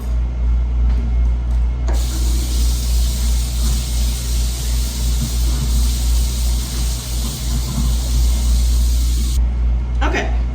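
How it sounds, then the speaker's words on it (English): Water runs over corn on the cob in a kitchen, a loud steady hiss that starts abruptly, carries on for about seven seconds and cuts off, with a voice faintly present. "now I'm going to rinse the corn just to make sure I've gotten it"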